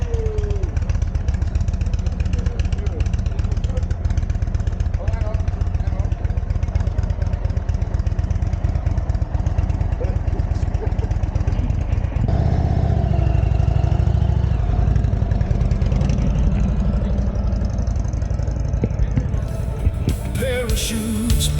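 An Indian motorcycle engine idles at a riders' festival before setting off, a loud, close, steady throbbing rumble that holds for the whole stretch, with a slight shift in tone midway and no speech.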